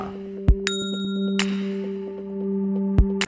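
Notification bell ding sound effect: a couple of bright ringing chimes and sharp knocks over a constant low hum, with no speech.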